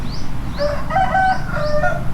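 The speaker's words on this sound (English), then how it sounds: "Cock-a-doodle-doo." A rooster crowing in Thailand, several short rising calls in quick succession, close and clear over a low rumbling background.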